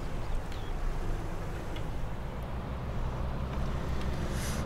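A Valtra tractor driving fast in the video game Farming Simulator 19, a steady low engine drone with a broad rushing noise, constant and unbroken throughout.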